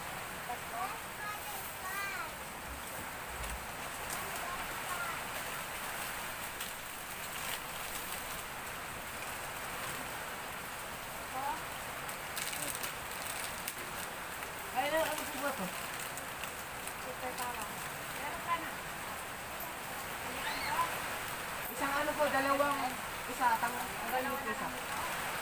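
Heavy typhoon rain pours steadily during a power outage, a constant close hiss of drops on surfaces with voices talking faintly beneath it.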